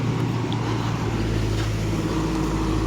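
Tractor engine labors up a slope, a steady loud low drone with a strong rumbling hum that holds without pause.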